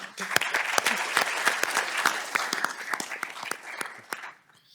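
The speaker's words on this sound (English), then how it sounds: "Please join me in a round of applause for Devin." A conference audience at a sports analytics panel applauds, many distinct hand claps in a lively, fairly close burst that thins and fades out near the end.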